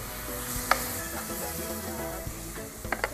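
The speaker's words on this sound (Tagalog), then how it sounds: "kapag golden brown na guys yung gisa ng bawang, sunod na natin yung sibuyas" Garlic and onions sautéing in a pan, a steady close sizzle with a few sharp clicks and taps of stirring scattered through, and nobody speaking.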